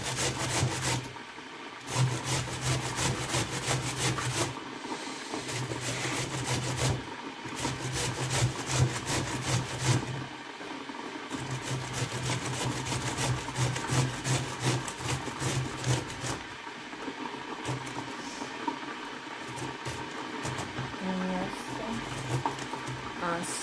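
A cloth rubs steadily across a kitchen table strewn with grated carrot while making meatless borscht, a continuous scraping swish with brief pauses, close to the mic.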